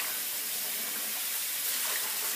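Cold tap water running into a basin over mustard greens, a soft steady hiss and splash that holds evenly throughout, fairly quiet and close with no voices.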